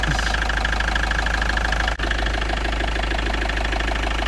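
A 2.8-litre HDI diesel truck engine idles steadily up close, a constant low rumble with a faint rhythmic clatter and a brief dropout midway.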